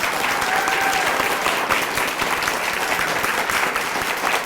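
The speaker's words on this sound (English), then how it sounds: "let's give one more round of applause for this recipient and all our recipients" Audience at an Arizona education awards ceremony breaking into sustained, dense applause with steady clapping, close and loud from start to end.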